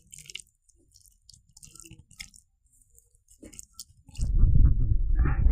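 Boiled raw papaya is mashed and mixed by hand, giving soft, wet, intermittent squishing and pressing sounds that turn into a louder, continuous rough churning near the end.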